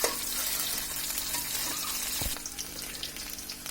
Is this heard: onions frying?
yes